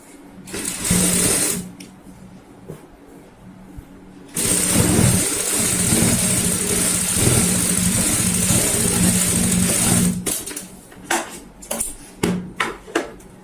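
A sewing machine stitches a box cushion cover in a steady whirring run, with a shorter burst near the start and a few stop-start bursts toward the end, loud and close.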